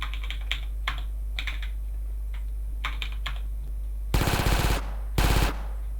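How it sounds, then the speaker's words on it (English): Two short bursts of rapid automatic pistol fire from the GTA: Underground mod, loud and close, following softer clicky taps earlier in the moment. "We introduced automatic pistols."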